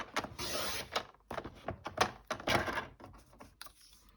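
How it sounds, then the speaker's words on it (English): Cardstock is cut to 11 inches with a paper trimmer: a series of close, dry scraping strokes and small clicks in irregular rhythm, some longer swishes among short taps, with no talking. "let's open up, cut on the long side and cut it at 11 inches"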